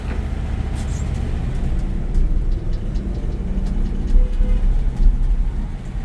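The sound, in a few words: 1964 Ford F100 pickup engine driving in second gear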